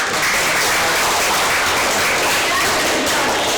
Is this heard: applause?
yes